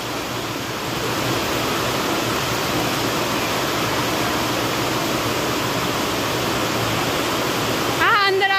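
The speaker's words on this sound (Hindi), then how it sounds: "कोई कितनी तेज बारिश हो रही है।" Heavy rain in Delhi pours down in a dense, constant roar, loud and close with no break, continuing steadily throughout.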